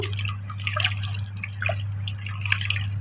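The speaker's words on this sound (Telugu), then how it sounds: "ఇప్పుడు చేతితో కలిపేసుకుందాం ఒకసారి. ఇట్లా టమాటాలన్నీ పిసికేద్దాము." Wet squelching and dripping as a hand squeezes tomatoes in tamarind water for rasam, close by and fairly quiet, over a steady low hum with no talking.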